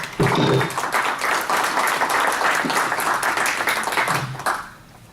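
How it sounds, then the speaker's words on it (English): A round of applause at a village board of directors meeting, many hands clapping in a brief burst that tapers off near the end, with a voice briefly heard. "please join me in giving them a very appreciative and grateful round of applause"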